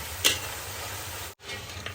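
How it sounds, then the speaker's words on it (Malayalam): Plantain pieces frying in coconut oil hiss steadily and quietly while a utensil stirs them, with a sharp clink near the start and a short dropout. "ഇട്ട് കൊടുത്തതിന് ശേഷം നമ്മുടെ കായ ഇങ്ങനെ ഇടയ്ക്കിടയ്ക്ക് ഇളക്കിക്കൊണ്ടിരിക്കുക"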